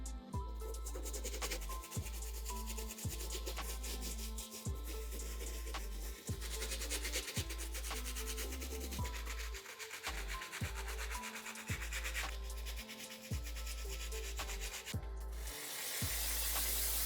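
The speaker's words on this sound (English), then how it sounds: "get another clean on this outsole using a small wire brass bristle brush" A small brass-bristle wire brush scrubs the outsole of a dirty Air Jordan 1 Travis Scott Medium Olive sneaker in steady, repeated back-and-forth strokes, close and fairly loud, with a scratchy rubbing texture throughout.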